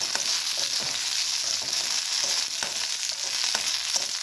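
Green chillies roasting in a little oil in a pan, a dense steady sizzle and crackle running throughout with occasional sharper pops, close and fairly loud, no voices.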